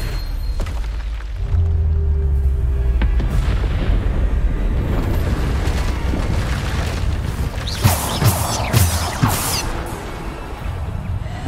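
Bombarda explosion spells blast in Hogwarts Legacy, heavy booms and crashes rolling over a dense rumbling backdrop, with a cluster of sharper bursts toward the end.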